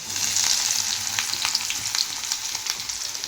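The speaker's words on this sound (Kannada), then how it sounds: "ಅವು ಸ್ವಲ್ಪ ಎಣ್ಣೆ ಒಳಗೆ ಫ್ರೈ ಆಗಬೇಕು" Sliced onions frying in a little oil make a steady close sizzle and crackle with faint stirring, alone without talk.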